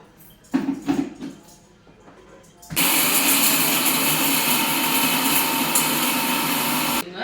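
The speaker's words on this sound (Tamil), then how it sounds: "இதை மூடி வச்சு அரைச்சி எடுத்துன்னு வந்துடுறேன்." A mixer grinder grinding spices for fish fry masala whirs loudly and steadily for about four seconds, then cuts off. Soft handling knocks come before it starts.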